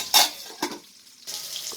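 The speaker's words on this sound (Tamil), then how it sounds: "மீன் குழம்பு கொதிக்கட்டும்" A pot of Romeo fish curry (kuzhambu) with tomato bubbling on the stove, two sharp stirring scrapes followed by a quieter spell, then a soft steady sizzle and simmer.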